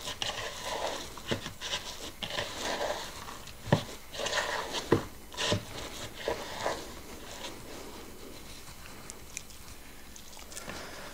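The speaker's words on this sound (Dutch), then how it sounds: "En dan uiteindelijk even met mijn handen kneden." Soft, sticky squishing and patting from hands kneading a homemade coconut bounty dough, a steady irregular run of muffled presses with a few sharper slaps, close and fairly quiet, no talking.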